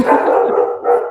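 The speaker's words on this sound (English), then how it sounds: "Oh, that's my dog." A dog barks and yips loudly and close by in a steady run of overlapping calls lasting about a second, with a brief dip near the end before a final bark.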